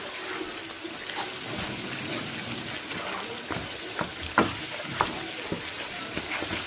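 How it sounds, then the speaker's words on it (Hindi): Meat for aloo gosht fries and sizzles steadily in a pot, a continuous hiss with occasional stirring clinks and scrapes. "5 से 7 मिनट भून लेंगे।"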